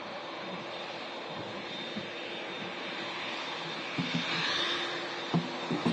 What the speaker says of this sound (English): TUI Dreamliner 787-8, India Echo on the registration of this plane heading off to Montego Bay in Jamaica